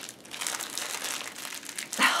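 Plastic packaging on a Disney subscription-box item crinkles and crackles as someone struggles to open it, with continuous close rustling that builds to a sharper crunch at the end and no speech.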